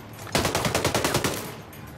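Gunfire in the video game Ghost Recon Breakpoint: one quick burst of automatic shots, loud and close, lasting about a second before falling quiet.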